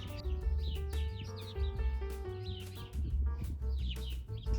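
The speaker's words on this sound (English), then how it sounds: "As soon as I came over here, the birds started getting really loud." Many birds chirping and tweeting loudly in a dense chorus over a low rumbling background, with calls overlapping continuously.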